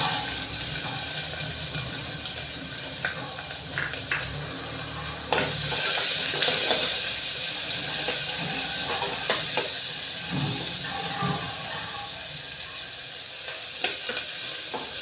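Dried red chillies fry in hot oil in a pan, giving a continuous close sizzle and hiss with intermittent stirring scrapes and clinks throughout, no talking.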